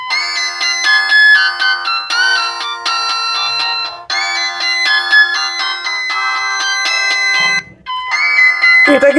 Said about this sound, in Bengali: আমি রিংটোনের সাউন্ডটা একটু শোনাবো